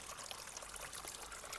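Filtered water pours out and trickles into a garden koi pond, a steady close splashing stream without pause.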